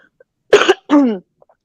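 A close, loud double cough, two harsh bursts followed by a throaty clearing sound, in an otherwise quiet room.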